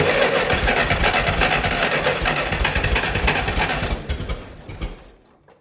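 The LP engine of a Clark forklift, just after a points-gap adjustment, runs loud with rapid rough pulsing, then sputters and dies away to silence over the last second.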